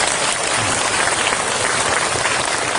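Loud, dense applause from an audience at a school support agreement signing ceremony for schools in an aircraft-noise area, a steady wash of clapping that lasts the whole stretch with no talk.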